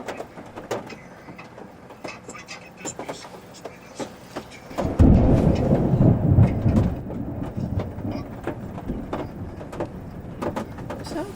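Thunder during a thunderstorm rolls in midway as a heavy, low rumble lasting a couple of seconds, then fades back into a quieter stormy background.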